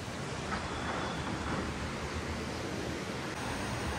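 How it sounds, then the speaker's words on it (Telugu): A small river runs down from the hills beside a park in Kasol, producing a steady, broad rushing wash of flowing water at moderate level, uninterrupted and without talk. "చూడండి ఇది ఒక చిన్న రివర్ అనమాట"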